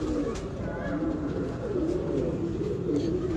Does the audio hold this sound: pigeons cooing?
yes